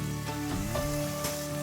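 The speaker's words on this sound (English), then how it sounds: "Sauté for about a minute." Steady sizzling and crackling of tomatoes and green chili pepper frying in olive oil in a hot sauté pan, continuous and close, with a few faint clinks of a utensil.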